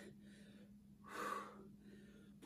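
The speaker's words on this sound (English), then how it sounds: "Nice deep breathing." Heavy breathing during a chair-based circuit workout, a single strong breath rising in the middle over a faint low hum, with a sharp sound at the very end.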